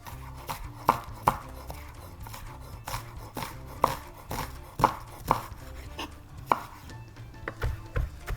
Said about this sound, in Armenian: Կտրատում ենք սոխը եւ սխտորը